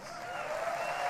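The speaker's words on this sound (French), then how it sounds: "Let's give them a big round of applause" An audience applauds at the Apple WWDC 2017 keynote, a steady wash of clapping swelling slightly and holding at a moderate, distant level, with a faint tonal hum running beneath it.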